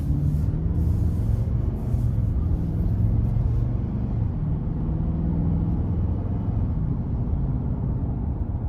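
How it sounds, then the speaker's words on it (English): A Nissan Titan XD pickup truck with a 5.6-litre V8 gives a deep, steady, burly engine rumble while driving, continuous and fairly loud, with some road noise and no talk. "I just love how burly this truck sounds"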